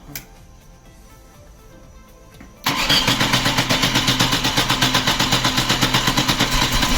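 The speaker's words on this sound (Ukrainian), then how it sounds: "Заводимо на газу." VAZ 2108 with a 1.3 engine, running on gas, cranks and catches after about two and a half seconds of quiet, then settles into a loud, steady idle with a regular pulsing beat.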